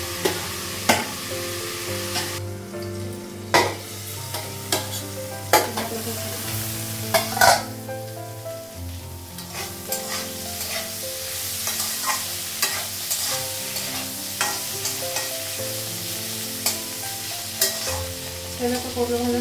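Bitter gourd (karela) sizzling in oil in a pan at home, a continuous frying hiss broken by frequent sharp scrapes and clanks of a spatula stirring against the metal, close and clear with no talk.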